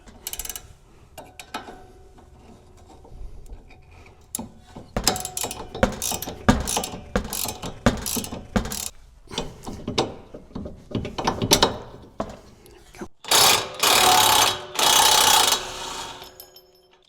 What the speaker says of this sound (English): you'll have to use a 18 millimeter ratcheting wrench